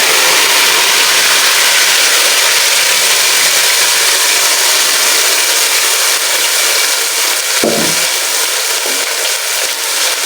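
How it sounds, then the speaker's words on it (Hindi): Hot tadka tempering hits kadhi with a loud, continuous broadband sizzle and hiss that stays close and steady throughout, with no talking. "ठीक है, अब मैं तड़का उठाऊंगी और इसके ऊपर डायरेक्ट डाल दूंगी।"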